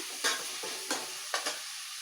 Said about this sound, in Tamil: நல்லா வந்து பொடியாக கட் பண்ணி நல்லா வதக்கிக்கோங்க நல்லா வந்து பிங்கிஷாக வதக்கிக்கோங்க